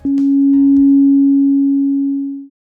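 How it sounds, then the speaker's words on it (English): A single pure, steady wavetable synthesizer sine tone at a low-mid pitch, loud and sustained for about two and a half seconds before cutting off. "all the way to the right, this is going to be a sine wave"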